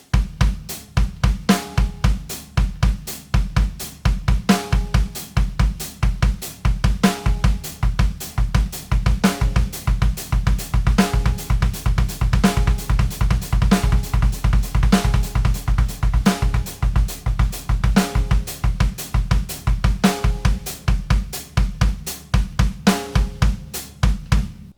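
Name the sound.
drum kit playing triplet groove with halftime backbeat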